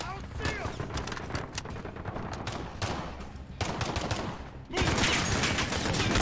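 Machine gun fire in the Modern Warfare video game campaign, dense rapid bursts of gunfire that build to a louder, heavier barrage near the end, with a voice talking over the top.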